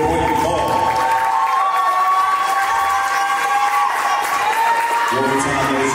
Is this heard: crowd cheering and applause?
yes